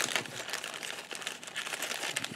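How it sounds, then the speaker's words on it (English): Plastic goodie bag packed with sewing machine accessories being opened and rummaged, giving steady close crinkling and crumpling with scattered sharper rustles throughout, no talking. "And a goodie bag within a goodie bag."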